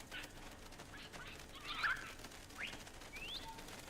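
Parrots in a Minecraft aviary give faint, high squawks and chirps, with a few brief rising whistle-like calls spaced through a quiet background.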